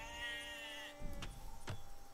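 A sheep in Age of Empires 2 gives a short, quiet, wavering bleat, followed by a few soft clicks and game sounds at low volume.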